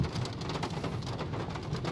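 Heavy rain pouring steadily in Saudi Arabia in the early evening, a dense continuous hiss of drops on surfaces with low rumbling underneath, moderately loud and unbroken throughout with no talking.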